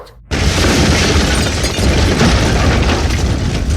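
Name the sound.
LPG tank explosion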